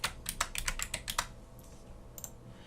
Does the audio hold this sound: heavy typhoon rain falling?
no